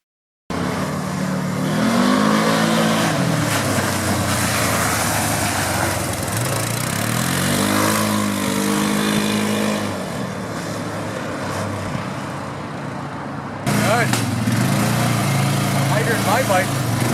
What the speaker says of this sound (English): right now I'm going to get on my quad and head back to camp